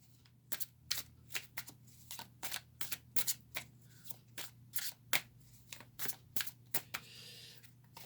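Quiet, close-up crisp flicks and snaps of tarot cards being shuffled and laid out, in an uneven rhythm of quick bursts.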